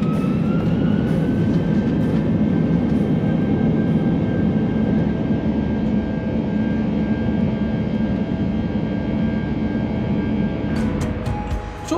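British Airways passenger plane taking off, a loud continuous engine roar with heavy rumble heard from inside the cabin, steady throughout and fading slightly at the end, no talk.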